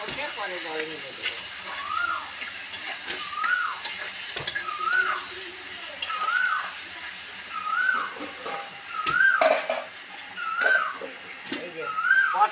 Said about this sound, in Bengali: এই যে পটল চিংড়ি মাছ একসঙ্গে সব দিয়ে এবার কষে নেব।